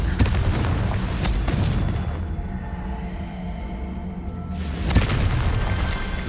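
Confringo explosive spell cast in Hogwarts Legacy, a loud deep boom with a rumbling tail, then a second blast near the end, all heavy and close with no speech over it.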